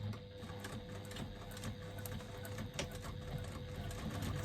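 A sewing machine with a size 16 needle stitches a 3/8 inch seam through foam and exterior fabric, a steady, close, continuous mechanical whir with rapid needle ticking and no voices.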